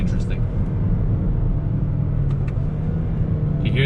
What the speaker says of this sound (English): You hear those downshifts